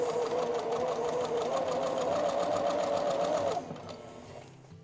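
A sewing machine chain pieces quilt fabric with a close, steady rapid whirring hum that runs evenly for several seconds, then stops, leaving quiet room noise.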